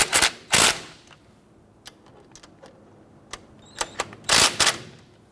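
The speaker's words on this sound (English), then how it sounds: "And we'll go ahead and snug those down. Using a 14mm socket," A ratchet with a 14mm socket snugs down brake caliper bolts on a 2005-2021 Nissan Frontier, giving a few sharp, close metallic bursts of clicking separated by quieter ticks and pauses.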